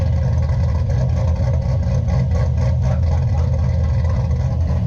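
A cammed C6 Chevrolet Corvette V8 idles steadily and loudly from close range, a deep, lumpy rumble that holds unbroken throughout with no talk over it.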